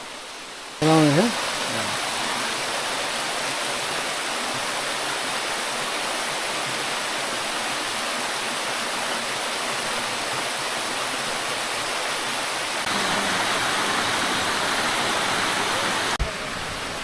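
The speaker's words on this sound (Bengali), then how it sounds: "এপাশে তো ঝিরির শব্দ আছেই" A stream rushes steadily beside the trail to Muppochora waterfall in Rangamati, a constant loud watery hiss close by, with a brief voice heard near the start.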